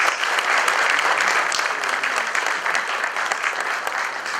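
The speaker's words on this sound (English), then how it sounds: "Shall we please give His Majesty a round of applause?" A round of applause for His Majesty the Asantehene during a formal courtesy visit, with many hands clapping steadily and densely from a nearby audience, sustained throughout without pause.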